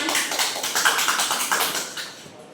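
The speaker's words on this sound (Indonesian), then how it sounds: "Beri aplaus untuk Salmia." Classroom applause from students in a school lesson, a dense burst of clapping that swells and then fades out over a couple of seconds, with no talk over it.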